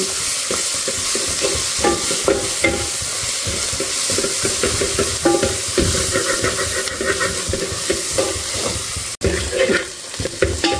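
Ingredients for methi dal frying on slow heat in a pan, a loud, steady close sizzle and hiss with frequent stirring scrapes throughout and one brief dropout near the end.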